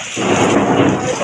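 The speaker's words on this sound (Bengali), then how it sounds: "কথা বলতে বিদ্যুৎ চমকাচ্ছে" A loud, continuous roll of thunder rumbles through a heavy rainstorm at night, the low booming steady for its full length with rain hissing underneath.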